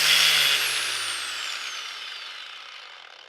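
An angle grinder with soft start and braking winds down from a high whine. The pitch falls smoothly as it slows to a stop over about three seconds, with no talking.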